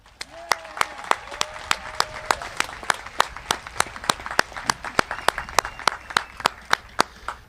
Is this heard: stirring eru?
no